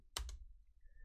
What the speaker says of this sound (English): I'll just type it in manually because it's not, the copy paste isn't actually working properly.